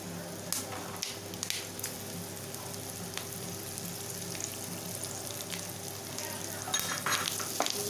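Onions and curry leaves frying in oil for a spicy prawn roast, a steady soft sizzle with scraping stir strokes and occasional louder clicks of the spoon against the pan throughout.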